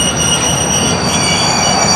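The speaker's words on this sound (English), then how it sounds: "As they slide past this switch, they will need 7 good car lengths." Hospital train cars sliding past a rail switch on the FEC line, steady loud metallic wheel squeal ringing over a continuous rolling rumble, close by with no talk.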